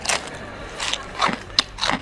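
Crunchy chewing of pretzels, a few loud bursts in an irregular rhythm, close and up-front with no talking.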